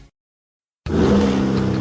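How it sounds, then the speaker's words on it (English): A 2023 Chevy Silverado pickup's turbo high-output engine roars to life after a moment of silence, a loud, sustained revving rumble that holds steady to the end. "That's the sound of the 2023 Chevy Silverado's turbo high-output engine,"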